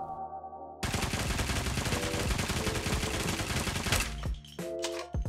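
Rapid automatic weapon fire in Call of Duty Mobile, without modification, in a sustained burst of dense, regular shots, stopping abruptly, followed by a few mechanical clicks and clatters.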